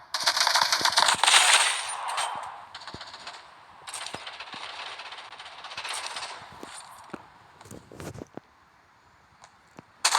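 Rapid bursts of gunfire in the mobile shooter Modern Strike crackle and pop in quick strings, with scattered sharp shots and a brief lull near the end.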